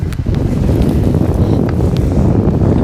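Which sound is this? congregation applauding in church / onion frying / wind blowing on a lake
wind blowing on a lake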